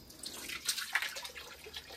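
Water gushes and splashes from a broken pipe as it fills a container in a garden among foxtail orchids. A soft, close, continuous trickle with small splashy bursts.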